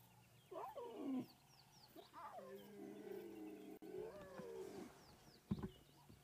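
Young lions from a wild pride in the bush give several drawn-out, wavering moans, one after another. The calls are fairly quiet and somewhat distant, with faint bird chirps and a soft knock in the background.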